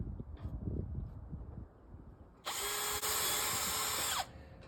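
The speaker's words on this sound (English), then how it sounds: "I'm going to pre-drill a couple holes." Power drill boring pilot holes through the aluminum frame of a storm door, a single steady high-pitched whine lasting under two seconds after a quiet stretch with faint handling noise.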